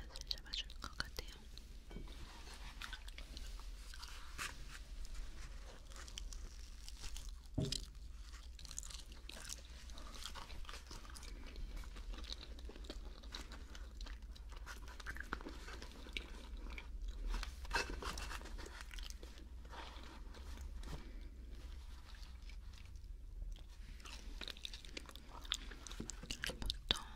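Close-up chewing of a mac and cheese sandwich, soft crunchy bites and wet mastication repeating steadily, with quiet whispered talk throughout.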